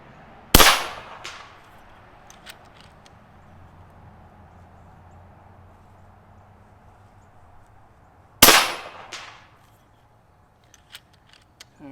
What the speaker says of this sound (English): Shooting really good at 100.